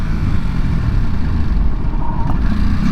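A 2023 Ducati SuperSport 950 S motorcycle downshifts while riding, a loud continuous engine drone with road and wind rumble, steady throughout and no talking.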